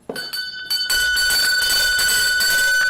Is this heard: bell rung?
yes